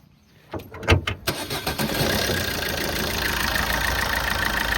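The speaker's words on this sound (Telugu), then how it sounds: "ఇంజన్ యొక్క సౌండ్ కూడా చూసుకోవచ్చు" A Maruti Suzuki Ertiga VDi diesel engine, a 2015 model, cranks with a few sputtering bursts, catches, and settles into a steady, rough, close idle.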